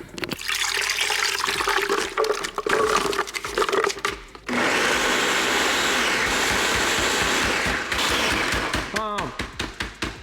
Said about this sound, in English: If you guys got a good blender recommendation, let me know